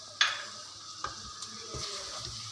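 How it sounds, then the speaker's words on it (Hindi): Milk poured into a hot pan of softened vegetables and flour, cooking the white sauce for a chicken cheese bread, gives a soft sizzle with light stirring and a brief clink at the start, close and steady. "ये आप थोड़ा सा दूध डालेंगे, हम देख के डालेंगे कि हमें कितनी ज़रूरत है"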